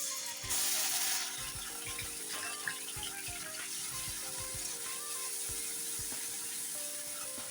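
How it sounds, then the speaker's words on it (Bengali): Onion and garlic paste hits a little hot oil in a pan, giving a brief bright sizzling burst that settles into a steady, watery crackle beneath soft background music. "এখন আমি তাতে দিয়ে দিব এই যে পেঁয়াজ আর রসুনের পেস্টটা।"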